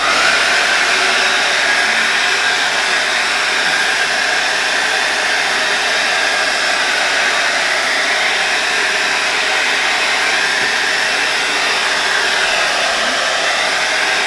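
A handheld blow dryer runs steadily and close for the whole stretch, a loud, even airy whoosh with no breaks, while setting spray is misted into its airflow.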